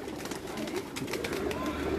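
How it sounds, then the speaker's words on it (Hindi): Domestic rooftop pigeons coo in a steady, overlapping murmur of low throaty calls, close and continuous throughout. "ये इनके घर के कबूतर है"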